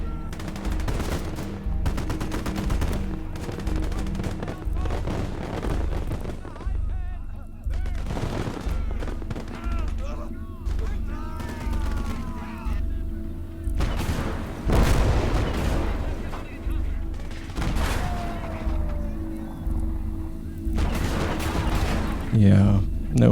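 MG42 machine gun fire in the Gates of Hell World War II video game: sustained rapid bursts layered with booms and distant explosions, steady and fairly loud throughout, with brief talk.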